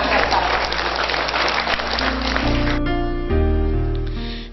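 A crowd at a gathering honouring Pak Sodik of Tanah Datar claps steadily and loudly, the dense even applause running under a held musical tone that takes over toward the end.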